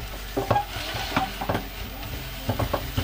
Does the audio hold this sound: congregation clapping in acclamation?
no